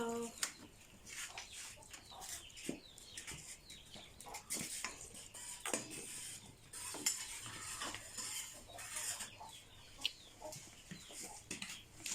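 A spoon clinks and scrapes around a cup while a sweet drink is stirred, repeated close clatters with chatter and background clucking from chickens.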